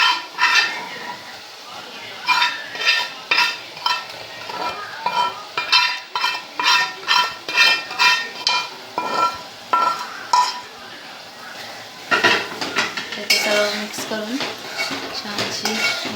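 Fried okra (bhendi) being stirred into masala in a metal pan, with a spoon clanking and scraping against the pan in a steady rhythm, close and loud, and a soft sizzle underneath.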